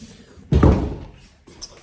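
An interior door into a living room closes with a single solid thump that fades out quickly. The sound is close, and a faint trace of room noise follows it.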